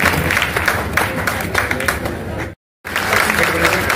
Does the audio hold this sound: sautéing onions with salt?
no